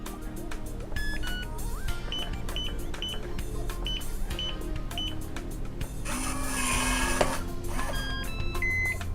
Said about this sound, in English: To unlock, press the star key, enter your PIN, and then press the star key again.